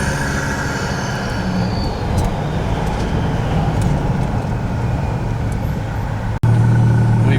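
A Ford AU Falcon running on E85 drives along the road, its steady low engine and road rumble droning continuously from inside the car, with a sudden louder low burst near the end.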